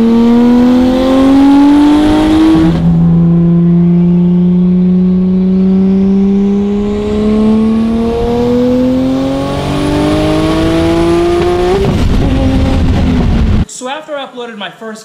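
A BMW engine revs hard and loud, pitch climbing through gear changes, dropping, then climbing again, ending in an abrupt cut to a brief different sound.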